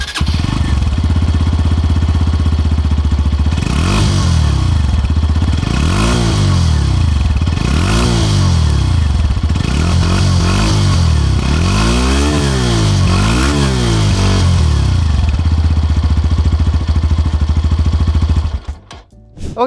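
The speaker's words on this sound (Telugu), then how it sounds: "ఈ బైక్లో ఎగ్జాస్ట్ నోట్ ఎలా ఉంటుందో ఒకసారి చూద్దామా." A 2026 Hero Glamour X 125 motorcycle engine runs loud and close, its exhaust note rising and falling through a series of revs over a steady idle before it cuts off at the end.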